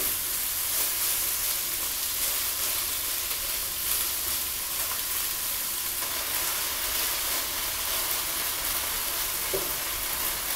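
Flour-dredged beef chunks browning in a hot pan give off a loud, steady, close sizzle and hiss that holds without pause, no voices over it.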